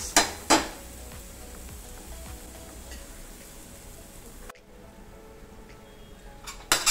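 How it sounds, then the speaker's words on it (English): Boiled eggs are chopped for Mumbai street-style anda ghotala, giving a few sharp knife knocks on a board near the start and end, with faint clatter and a quiet kitchen hum between. "By the time we will chop our boiled eggs."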